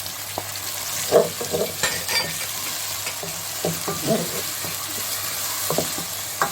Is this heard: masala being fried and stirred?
yes